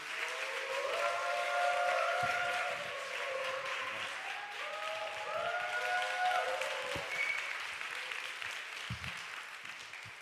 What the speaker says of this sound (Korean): 격려의 박수를 우리 함성과 함께 보냈으면 좋겠습니다